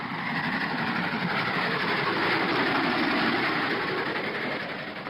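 A train runs steadily in a 1946 film, a continuous dense rumble and rattle of rolling wheels and carriage noise that stays loud and even throughout, with no voices.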